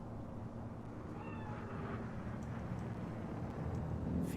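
Cat spirit in Cyberpunk gives a short, faint meow that rises and falls, heard over a loud, steady low ambient rumble of the game world.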